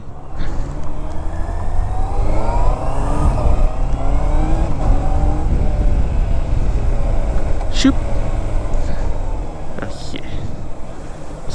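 A Honda CBR650R motorcycle with E-Clutch rides off, its engine revving and rising through gears under someone talking, with a few sharp clicks and road noise.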